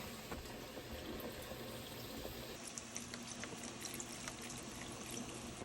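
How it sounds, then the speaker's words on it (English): Beef broth poured into a stew pot that already holds red wine, a steady liquid pour and trickle running throughout, moderately close and fairly quiet, with no talking. "Gonna add our beef broth."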